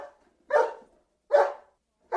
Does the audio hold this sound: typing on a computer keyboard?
no